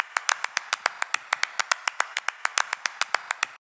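Crisp, dry hand claps sampled from an album play in a quick, regular series of about two dozen sharp hits, close and fairly loud, then stop abruptly into silence.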